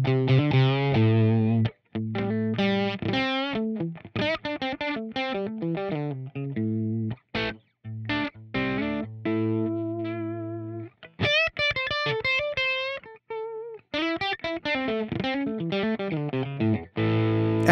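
A Vigier GV Wood electric guitar with P90 pickups through an Orange amp model and cab on a Helix plays distorted riffs, chugging chords broken by short gaps and sustained higher notes, loud and alone.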